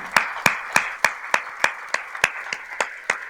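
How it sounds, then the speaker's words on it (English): A standing audience applauds at a business awards ceremony, with crisp, regularly spaced claps ringing out steadily and close by from start to finish. "I invite you all to stand and join hands in applause"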